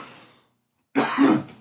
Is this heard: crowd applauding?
no